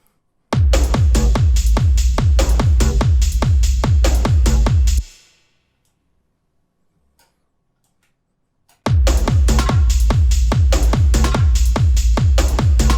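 Hardgroove techno percussion loop with a low-end kick and hi-hats, pounding in a fast steady pulse, cutting out for a few seconds of near silence before resuming loud and dense.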